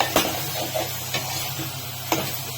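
Okra and prawn curry is stirred in a pan, with a few soft scraping strokes and light clinks over a steady simmering sizzle.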